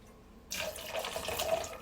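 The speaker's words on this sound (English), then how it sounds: "So nice little pour of that beautiful purple" Purple violet Empress gin poured into a cocktail vessel, a steady close liquid stream starting abruptly after a brief quiet moment and running on without pause.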